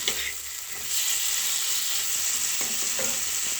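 Boiled potatoes fry and sizzle in a pan of cooked spice paste made with ginger, giving a steady close hiss with a few soft stirring scrapes and no voices.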